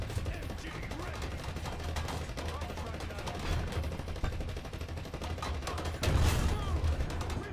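Machine gun fire in the tank game War Thunder crackles in a dense, continuous rattle under engine rumble, with a louder burst near the end.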